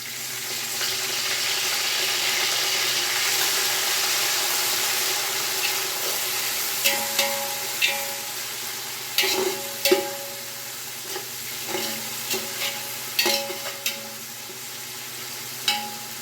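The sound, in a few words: onions frying in a pan with mint and coriander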